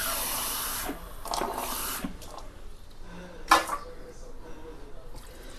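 Half a glass of water poured into a pan of simmering fish curry with potatoes and vegetables, a few short splashing bursts with a brief louder splash near the end, heard close up without talk.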